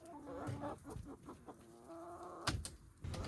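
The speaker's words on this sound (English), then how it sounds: "I'm locking these chickens up so I can dig material out of their run" Backyard chickens in their run cluck and murmur softly at close range, a few short calls and low throaty notes with brief scuffling, fairly quiet and without speech.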